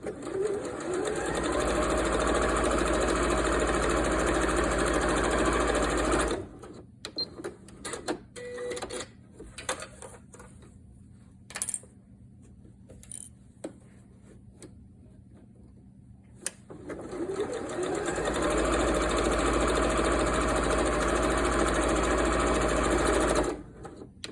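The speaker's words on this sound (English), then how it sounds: "We are just going to do 2 simple straight stitches." A sewing machine runs straight stitches on fabric in two long steady whirring bursts, loud and close, separated by a quieter pause with light clicks and handling noises.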